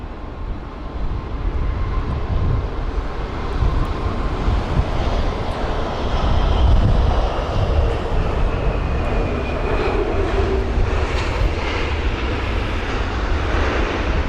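Continuous loud roar of jet engines from a Lufthansa A320neo lining up on a runway at London Heathrow on a windy day, steady and broadband with slight swelling, heard from a distance with wind noise.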